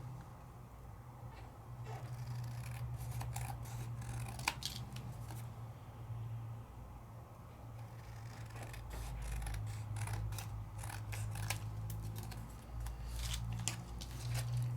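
Scissors or a trimmer cut through a craft paper mat in a series of quiet, crisp snips and slides, coming in bursts with short pauses, close and faint, with no talking.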